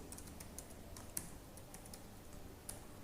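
Typing on a computer keyboard while entering a Java compile command, with a quiet, steady run of soft key clicks and a couple of sharper taps, no voices.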